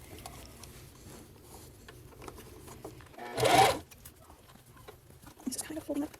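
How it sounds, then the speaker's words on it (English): A sewing machine stitches a dog coat made from a Simplicity 8538 pattern, right sides together, with a faint steady whir and one brief louder run partway through. "So now I'm stitching the coat together, right sides together."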